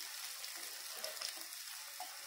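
Finely chopped tomato and capsicum sauté in a pan for bread upma, giving a soft, continuous sizzle with a few light stirring scrapes and small pops, fairly quiet and close.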